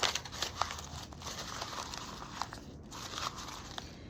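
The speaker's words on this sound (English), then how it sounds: "I am going to go ahead and crinkle this up because I like that look." Brown wrapping paper crinkles and crumples continuously for several seconds up close, with sharp crackly bursts scattered throughout.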